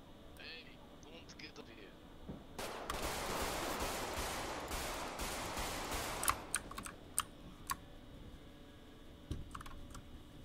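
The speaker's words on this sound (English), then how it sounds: "Shots fired" A roleplay video game shootout: a dense rapid volley of gunshots lasting several seconds, then scattered single shots, mixed with close keyboard typing and voices talking.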